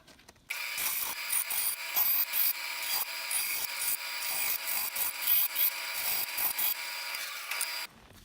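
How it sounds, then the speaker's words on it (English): Bandsaw cutting wood for a table saw zero clearance insert with riving knife, a steady close rasping cut with uneven scratchy pulses, starting abruptly and stopping just before the end. "I'm just going to use the bandsaw for this."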